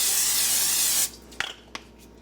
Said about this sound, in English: I always spray my pan.